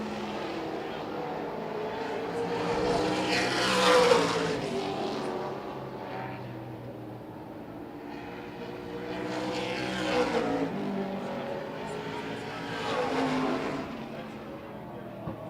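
CWRA race cars roar through qualifying laps at La Crosse Speedway, engines swelling and fading as cars pass in repeated waves, with a track announcer speaking over the noise.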